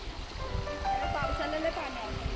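A steady rush of a forest stream swollen by rain fills the background near a waterfall while a person talks over it.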